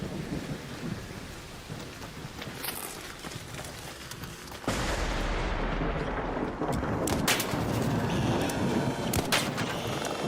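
Gunfire in the video game Escape From Tarkov, a sustained rumbling barrage with sharp cracks and booms layered over steady noise, growing louder and denser midway through.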